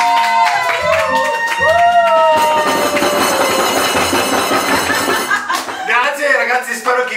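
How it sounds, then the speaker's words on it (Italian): A small group claps and cheers for a one million subscribers celebration at the end of a big eating session, loud and close, with voices, laughter and other sounds mixed in. "Applauso per il milione."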